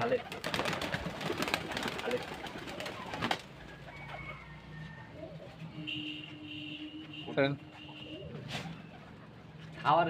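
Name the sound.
Giribaz pigeons cooing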